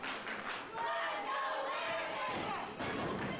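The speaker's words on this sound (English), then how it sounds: "The crowd here in attendance at Stampede trying to rally behind Landon Crews" At a wrestling show, the arena crowd cheers and chants in a continuous roar to rally behind wrestler Landon Crews, with a few thuds from the ring underneath.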